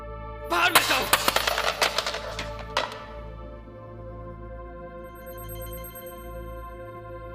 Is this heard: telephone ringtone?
yes